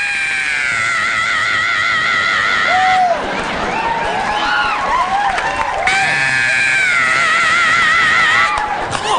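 A comedian imitates a Rob Halford–style 1980s metal scream, sustained high wavering wails rising and falling over roughly nine seconds, loud and close, with audience noise and cheering underneath.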